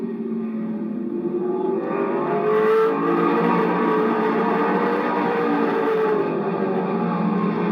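Race cars roar around the oval at Lorain County Speedway during a 2001 heat, a steady loud engine drone that swells and holds as the pack runs down the backstretch, with no talk over it.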